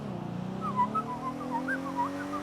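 A person whistles a wavering, warbling tune over a low engine-like drone, the notes sliding up and down in quick short phrases, fairly close and clear.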